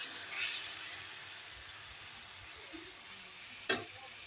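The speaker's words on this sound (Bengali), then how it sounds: "মশলা দিয়ে আমার কষানো হয়ে গেছে" Spices being sautéed for a mutton curry make a soft, continuous sizzle up close, broken near the end by one sharp scrape or clack of the spoon, with nobody speaking.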